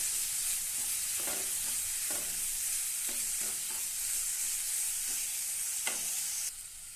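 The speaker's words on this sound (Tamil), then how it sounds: "இதையும் ஒன்றா நல்லா கலந்து விட்டுறலாம்." Grated coconut and turmeric being stirred in a frying pan for a ripe banana sweet, with soft scraping strokes at irregular intervals over a steady low sizzle.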